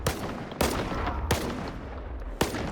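Saiga D-12 shotgun firing armor-piercing slugs at close range in STALKER 2, three loud sharp blasts spaced irregularly over a steady rumbling background.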